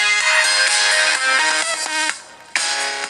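Tonal music with a ringtone-like melody plays at full volume through the single mono loudspeaker of a Huawei P8 Lite phone, bright and somewhat thin, with a brief drop before the tune resumes.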